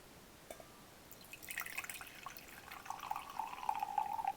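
Coffee pours in a thin trickling stream, starting with faint drips and building into a steady, close liquid splatter that rises in pitch as the cup fills, with no talking.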